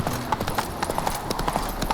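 Horse hooves in The Witcher 3 clatter in a fast, steady clip-clop gallop, each footfall crisp and close over a low game backdrop, with no talk.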